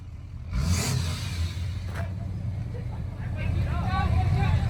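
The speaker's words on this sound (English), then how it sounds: "Rev it up. Man, it sounds like a diesel." A 2.7L EcoBoost Ford F-150 fitted with a PPE cat-back exhaust revs up. A deep, loud, steady rumble swells toward the end, and voices are faintly present around it.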